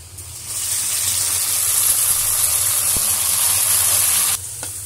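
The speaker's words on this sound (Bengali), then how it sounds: "হালকা লালচে ভেজে দিয়ে দিব গরুর মাংসটা।" Beef hits a pan of lightly browned fried onions and sizzles loudly, a steady hiss that builds quickly, holds for a few seconds, then cuts off abruptly.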